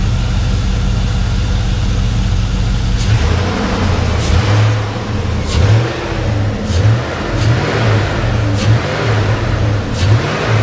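A Chevrolet Silverado truck engine idles steadily and then revs in a series of short, loud bursts at a close distance, with no talk.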